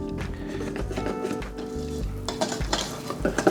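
Vegan chocolate cake batter being whisked in a bowl, with brisk scraping and clinking strokes that grow busier toward the end, no voices heard.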